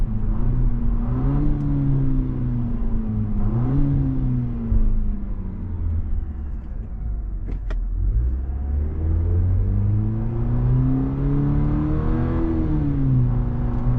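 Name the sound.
sports sedan exhaust revving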